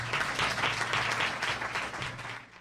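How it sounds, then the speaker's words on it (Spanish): An audience gives sustained applause for a few seconds at the Arcipreste del Año award event in Guadalajara, the clapping dense and fairly loud before fading at the end. "Un aplauso."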